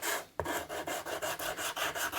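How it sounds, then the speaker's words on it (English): Rhythmic back-and-forth rasping of a soft sanding block with 80-grit paper on a guitar body, close and steady, about ten strokes after a brief pause at the start. "I want to take some 80 grit paper on a soft sanding block."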